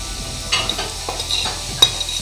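A spoon stirs green onion, chillies and coriander into frying potatoes in a pan, scraping irregularly over a soft sizzle, with a few sharper clinks near the end.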